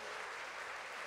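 A church congregation applauding during a sermon: brief, dense, steady clapping from a crowd, heard at a distance and unbroken for about a second.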